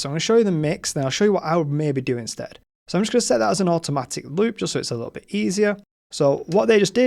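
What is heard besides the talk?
No everyday noises stand out.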